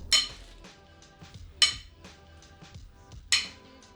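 Metal tools clink sharply against a Toyota 2ZZ engine bearing cap while its 10mm bolts come out. Three bright clanks spaced about every second and a half sit over faint ratchet clicks, close up and with no talk.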